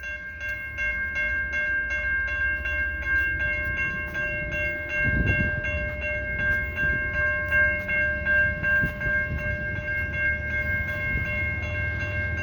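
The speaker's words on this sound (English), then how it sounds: "we got a train coming through St Ambroise, really quick" A long CN freight train rolls past St Ambroise Street in Montreal during a snowstorm, its steady rumble and clanking wheels close by under a sustained multi-tone horn.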